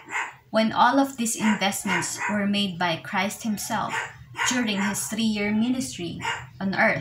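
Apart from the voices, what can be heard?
dogs barking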